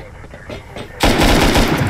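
Loud automatic machine gun fire in the survival game Rust at an oil rig, a sustained burst that starts abruptly after a second of quieter game ambience, with a voice faintly in the background.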